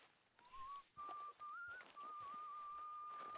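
Someone whistles a wavering, tuneful melody in the Red Dead Redemption 2 video game, a thin clear tone with brief pauses over an ambient outdoor background, no talking.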